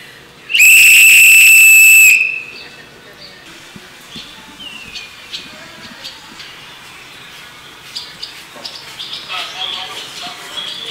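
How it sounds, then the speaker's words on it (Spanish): A single loud, shrill whistle blast in a prison, lasting about a second and a half, followed by quieter background chatter and bustle. "El primer silbatazo es para avisarnos que tenemos que salir a tirar la basura"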